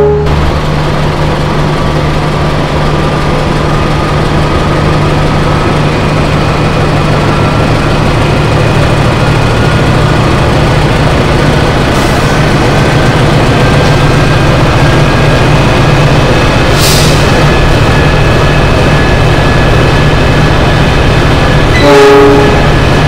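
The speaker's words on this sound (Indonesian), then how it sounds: "Lokomotif dinas kereta Kamandaka sudah berpindah posisi di depan pembangkit di dekat ekonomi 6." Kamandaka passenger train in Java, with the service locomotive positioned ahead of the generator car, rumbles steadily and loudly throughout, its horn sounding in brief blasts near the end.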